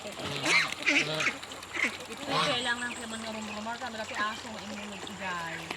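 Ducks quack repeatedly in a noisy, overlapping chorus, fairly close, with a person talking over them.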